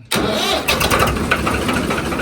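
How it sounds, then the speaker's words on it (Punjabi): A 1990 Swaraj tractor with a dead battery cranks on a jump starter and catches abruptly, then settles into a loud, steady running rumble close by. "ਤੀਜੀ ਵਾਰੀ ਲਗਾਤਾਰ ਟਰੈਕਟਰ ਸਟਾਰਟ ਹੋ ਗਿਆ ਜੀ"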